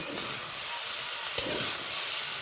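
Hot water poured into a pan of sautéed shrimp with papaya, potato, carrot and gourd stems sets off a steady, close hiss and sizzle, broken by one brief tick.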